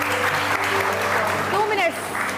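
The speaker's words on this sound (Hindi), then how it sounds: "हाँ, आ जाइए, बहुत सारी तालियां, आइए।" Studio audience applause on an entertainment show, a steady wash of clapping heard under a host's voice that keeps talking over it before the clapping fades slightly at the end.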